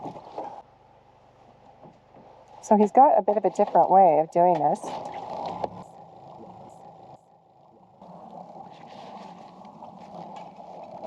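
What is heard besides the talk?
small motor skiff running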